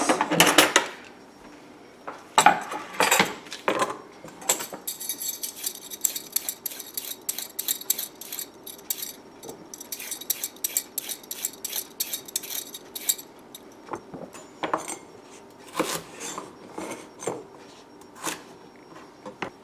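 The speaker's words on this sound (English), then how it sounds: "I'll go ahead and cut up the vegetables for the salad rolls" Vegetables being cut into matchsticks for salad rolls, a run of crisp knife chops and clicks on a cutting board, irregular and close, with quiet kitchen clatter in between.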